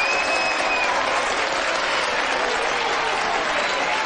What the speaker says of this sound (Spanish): Un aplauso para el genio de la música,